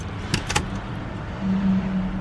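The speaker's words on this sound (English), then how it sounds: "let me fire this guy up here. Wait till you guys hear this thing crank." A car engine cranks briefly with a couple of sharp clicks, then catches and settles into a steady low hum, close by.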